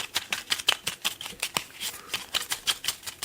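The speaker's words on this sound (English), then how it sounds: "I'm going to shuffle" Rapid riffling of tarot cards being shuffled, a dense run of crisp papery flutters repeating in quick bursts, close up and alone.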